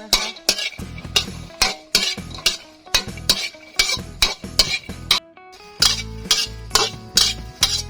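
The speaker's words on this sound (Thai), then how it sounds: "เสร็จแล้วเราก็จะทำการเอาไปคั่วนะคั่วไฟฮะ" Chilies for nam phrik khi ka being dry-roasted in a metal pan over a fire, heard as a steady rhythm of close metallic scrapes and clinks from a utensil stirring the pan, with no talking.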